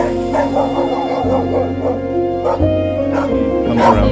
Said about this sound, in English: as soon as we drove in, we saw a few dogs